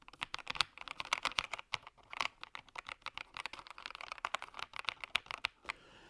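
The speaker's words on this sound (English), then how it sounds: "Maybe you guys can get an impression how they sound." Close, rapid typing on a Royal Kludge M87 mechanical keyboard, a dense run of crisp clacking keystrokes with brief pauses, heard alone near the microphone.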